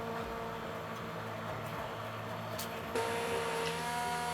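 A low-speed immersion blender whirs steadily while mixing tallow soap, a faint constant motor hum that shifts slightly in pitch partway through, with no talking.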